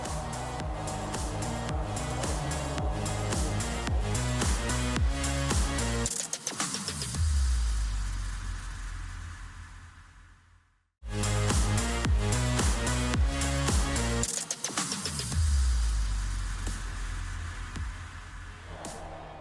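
Nissan Sentra race cars in a 2024 cup race roar past in dense pack traffic, a loud continuous engine drone with shifting pitches and two sweeping pass-bys, broken by a brief dip to near silence.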